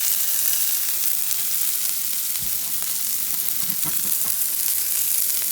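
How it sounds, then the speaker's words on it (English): Bell peppers sauteing in hot grease for rice, a steady close-up sizzle and crackle throughout with a few soft stirring knocks, no voices. "I'm sauteing all my peppers up so I can put it in my rice"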